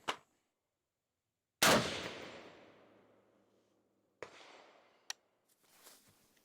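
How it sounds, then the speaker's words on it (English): An F1 Firearms rifle in 6.5 Creedmoor fires sharp, loud reports at a range, one big blast ringing out with a long echoing tail among several shorter cracks and clacks spaced seconds apart. "What I'll do is I'll just do a 5-shot group, including the cold bore."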